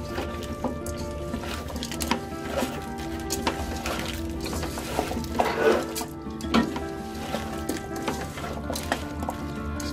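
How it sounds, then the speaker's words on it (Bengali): Red rice, vegetables and spices are worked together by hand for khichuri, giving a steady close squelching and wet mixing sound with occasional clinks of a bowl or utensil throughout. "ভালো করে মাখিয়ে নেবেন, খুব ভালো করে মাখিয়ে নেবেন যাতে প্রত্যেকটা জায়গায় মশলাগুলো থাকে"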